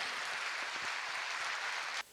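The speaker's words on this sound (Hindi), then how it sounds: "एक बार दोनों हाथों की जोरदार तालियां हवा में फहरा दीजिएगा।" Audience applause at a school Olympiad awards ceremony honouring students, a dense, steady wash of clapping from a large crowd that carries on for about two seconds and then cuts off abruptly.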